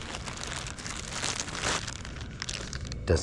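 Close crinkling of a plastic bag being handled while wrapping a mountain bike part, a continuous rustle with a few sharper crackles, louder near the end.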